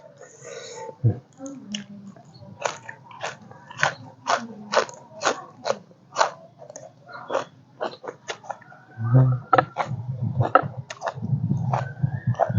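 Someone eats rice with grilled fish and a hog plum chili dip in a bamboo hut, making a steady series of sharp, close crunching bites with a low rumble in the later part.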